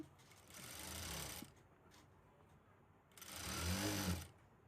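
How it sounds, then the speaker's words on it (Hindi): A sewing machine stitches piping onto fabric in two short runs of steady whirring, separated by a quiet pause, close by and moderately loud. "यहाँ पे सिलाई लगाएंगे।"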